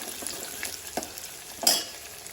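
Crushed garlic dropped into hot oil in a pan for a roasted raw-mango rasam, giving a soft, steady sizzle with light stirring scrapes and a brief louder crackle partway through; no talking.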